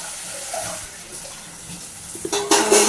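Tamarind water, used to rinse a bowl, pours into a cooking pot of sundakkai kuzhambu: a soft trickle at first, then a louder, splashing gush near the end.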